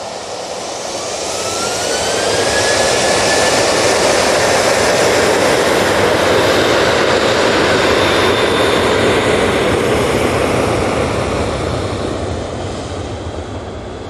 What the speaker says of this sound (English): And the Aer Lingus has just arrived.